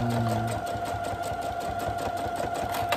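A sewing machine stitches a seam on a fabric project bag, with a fast, even mechanical rattle running steadily close up throughout.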